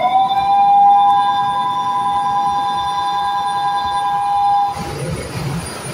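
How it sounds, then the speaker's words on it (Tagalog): A 15 ppm oily water separator alarm being tested in a ship's engine room sounds as a steady, loud electronic tone for several seconds over machinery drone, then cuts off, leaving broadband engine-room noise. "nag-test kami ng OWS 15 ppm alarm"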